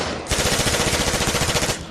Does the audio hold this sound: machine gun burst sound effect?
yes